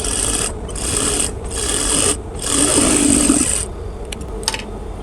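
Sewing machine stitching the side seam of a kameez, running in three or four short bursts of steady whirring separated by brief pauses, close and fairly loud, with faint clicks near the end.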